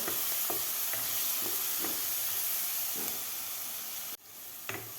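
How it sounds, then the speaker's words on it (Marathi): Ground masala paste sautés with onions in a pan, for a Maharashtrian pea rice, making a steady close hiss and sizzle with soft periodic stirring scrapes, then it drops off abruptly near the end before a few last stirs. "वाटणसुद्धा आपलं व्यवस्थित परतून झालेलं आहे."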